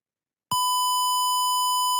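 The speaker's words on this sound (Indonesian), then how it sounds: "buzzer akan diaktifkan sebagai indikator suara bahwa terjadi percobaan akses yang" An ESP32 RFID door lock simulation in Wokwi sounds its buzzer for denied access: after half a second of silence, a single clean, steady electronic beep begins and holds unbroken to the end.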